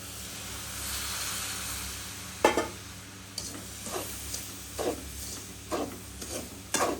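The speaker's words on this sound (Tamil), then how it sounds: "இதுக்குள்ள கொஞ்சம் கொஞ்சமாக பாலை விட்டு கிண்டுவோம்" Rava ladoo mixture is stirred in a hot pan as milk is poured in little by little: a steamy hiss underlies a run of rhythmic scraping strokes, roughly one per second, close and with no voices.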